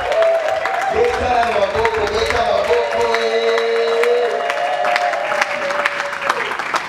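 Audience clapping at a wedding celebration, sustained dense applause mixed with cheering voices and a sung or called-out line carrying over the crowd.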